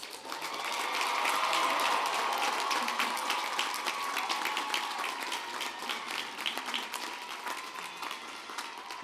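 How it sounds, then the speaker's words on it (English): Sustained applause from a large audience for graduates at a May 2024 graduate and professional commencement ceremony, steady dense clapping filling the hall without pause. "You may now applaud the graduates."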